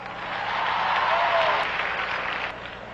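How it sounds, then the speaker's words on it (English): An audience clapping loudly at a gathering, a dense, even burst of applause that swells over about two seconds and then eases off. "We need to bring that back. Clap loud."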